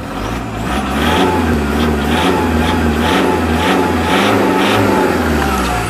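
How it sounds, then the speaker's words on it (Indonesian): A 2011 Toyota Fortuner G automatic with a 2KD turbo diesel engine revs loudly up close, the engine note climbing and holding in a steady, rising drone with no talk over it. "Kita gas dulu"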